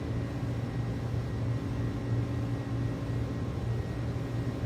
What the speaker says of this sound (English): Plane sounds really good.